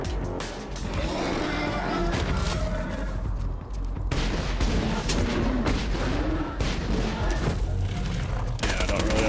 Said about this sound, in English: I was shooting stuff out of the air